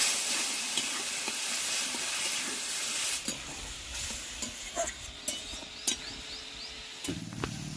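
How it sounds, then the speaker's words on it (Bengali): Ginger, garlic and cumin paste masala sizzles in a pan after a little water is added, a loud hiss at first that settles into softer frying with scattered spoon scrapes and clinks, no talking. "এখানে আদা রসুন জিরে বাটা দিয়ে দিলাম অল্প পরিমাণে জল দিয়ে মশলাটা কষিয়ে নেব"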